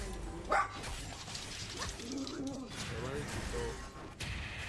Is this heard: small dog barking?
yes